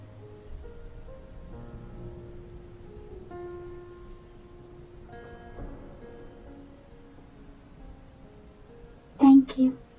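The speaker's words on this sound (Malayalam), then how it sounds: "ഈ മഴയത്തോ?" Steady, soft rain falls throughout, a faint continuous patter with quiet tonal sounds beneath, ending in two brief louder knocks.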